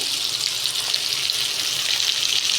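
Ground spice paste with tomato fries in hot oil for a fish curry, a loud, continuous close-up hiss of sizzling with little change across the moment.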